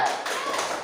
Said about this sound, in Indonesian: sekarang mari kita bersama lakukan tepuk semangat